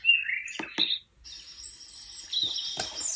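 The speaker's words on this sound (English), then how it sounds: "So it has the bird sound" Chirps and tweets from the bird sound on a sunrise alarm clock: two quick sharp calls, a short gap, then a longer trilling whistle with a few clicks, clear and close.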